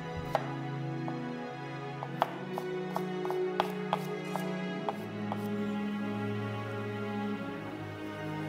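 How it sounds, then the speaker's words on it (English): Coarse chopping of three large garlic pieces on a cutting board gives a series of sharp, irregular knife taps, close and fairly quiet over a low steady kitchen hum. "Three large pieces of garlic, coarsely chopped."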